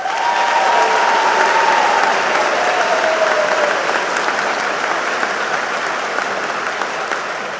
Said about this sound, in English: can we get a nice round of applause for the band?